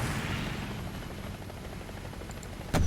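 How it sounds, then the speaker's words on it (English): A military helicopter in a War Thunder battle gives off a steady rotor and engine drone, fairly close, and a sharp impact or shot cracks out at the very end. "Well, that's a helicopter."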